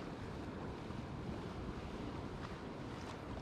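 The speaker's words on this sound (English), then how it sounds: "Nice roll to the water, nice little bit of chop, perfect conditions." Sea waves with a light chop at dawn on the UK coast, a continuous dense wash of surf mixed with wind buffeting the microphone, steady and fairly loud with no voices.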